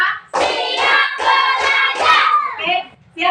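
A fourth-grade elementary school class claps in a counted rhythm, loud and close: a few evenly spaced beats under the children's loud chanting voices, then a short pause before more voices.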